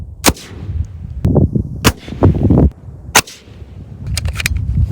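Sig Sauer Cross bolt-action rifle firing a shooting group outdoors in strong wind, five sharp, loud shots spaced irregularly with gusty rumble and handling noise between them.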